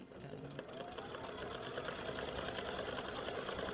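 Embroidery sewing machine stitching the eyes and mouth of a free-standing lace Easter bunny earring in black thread: a rapid, steady mechanical needle chatter running continuously at close range.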